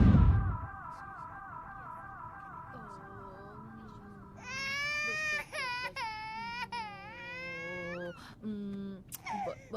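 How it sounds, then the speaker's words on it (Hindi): In a Bollywood film scene, babies wail in long, rising and falling cries, first faint and then loud and close, with brief pauses between sobbing bursts. "ये बच्चे रोते हुए कितने अच्छे लगते हैं।"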